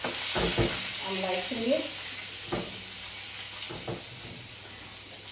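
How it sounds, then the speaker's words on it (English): Salmon sizzles in a pan with a steady frying hiss throughout, a few utensil clicks and knocks breaking in, while a person speaks briefly over the cooking. "So the salmon is cooking"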